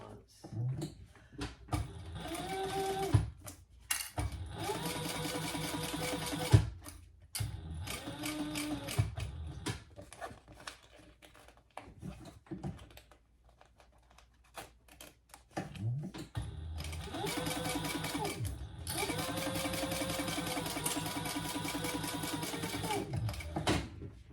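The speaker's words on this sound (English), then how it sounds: "stitch with your full seam allowance" A sewing machine stitches a seam on a fabric mini traveler sling pouch, whirring in steady rapid runs with a long pause midway, close and moderately loud.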